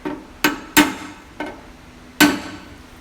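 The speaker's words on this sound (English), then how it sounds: "I use a pin style hammer like this. I put it on where it's too high, and then I tap it" Five sharp metallic taps from a small pin hammer on car bodywork, spaced irregularly with brief ringing after each strike, close and fairly loud with no talking.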